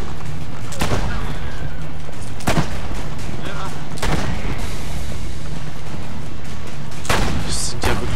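Explosions and gunfire from the Assassin's Creed Brotherhood video game, with several heavy booming blasts spread across a dense, continuous battle din and shots; talk is mixed in.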